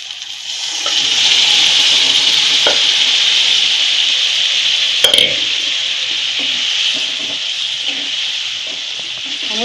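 Cooked mutton being added to and stirred through frying Kolhapuri masala in a pan, a steady close sizzle with scraping and rubbing from the spoon and a few sharp clinks, no talking.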